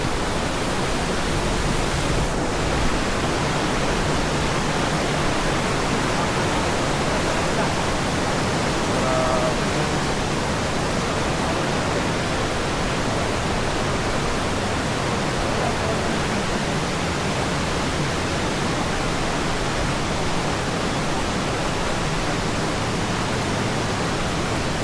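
Ditumabo Falls near Baler, Aurora, roars as a steady, dense rush of falling water that fills the whole scene, continuous and close, with faint voices barely audible beneath it.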